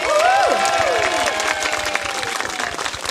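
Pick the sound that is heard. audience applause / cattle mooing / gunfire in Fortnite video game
audience applause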